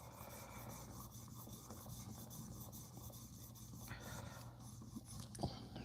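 A knife blade is drawn by hand across a sharpening stone, bevel top to bottom, giving a soft, continuous raspy scraping in steady strokes, quiet and close with a faint low hum underneath.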